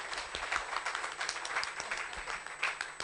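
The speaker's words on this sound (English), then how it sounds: "Very big round of applause, please." Audience applause at a diaspora forum in a conference room, with individual claps standing out in an uneven, moderately loud patter that lasts about three seconds.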